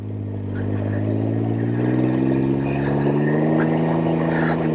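A Can-Am Ryker three-wheeled roadster revs steadily under a little throttle, its engine note rising slightly and holding loud and close throughout.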